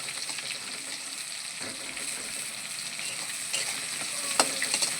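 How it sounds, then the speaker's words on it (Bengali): Onions fried in oil until reddish-brown, a steady close sizzle and crackle running throughout with a few brief clinks and scrapes from stirring near the end. "পেঁয়াজটা লাল করে ভেজে নেব।"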